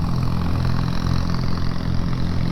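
A BSA A10 650 motorcycle engine runs smoothly with a steady, even mid-pitched drone, close and constant, with no talking.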